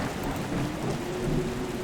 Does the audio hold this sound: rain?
yes